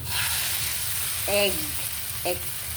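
An egg frying in a hot pan, a constant close sizzle across the whole stretch, with a brief voiced word or two cutting in over it.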